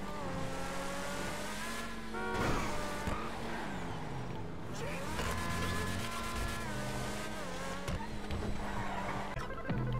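Car engine in the video game GTA Online, with revving and gear shifts rising and falling, tire squeals and skids, loud and continuous over game sounds.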